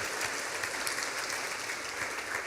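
A church congregation applauds together, a dense continuous wash of clapping from many hands filling the room at a steady level, with no voices over it.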